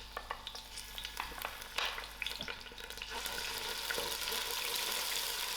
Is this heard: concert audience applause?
no